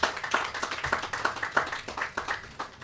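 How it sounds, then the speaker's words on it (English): Scattered clapping from a small audience at the launch of a secondary hospital, individual claps clearly separable in a loose, uneven rhythm that continues for a few seconds. "Give yourselves another round of applause."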